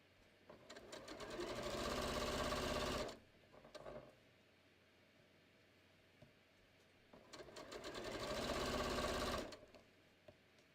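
Two steady bursts from a sewing machine stitching the diagonal seam joining cushion cover strips, each run lasting a few seconds with a quiet gap between.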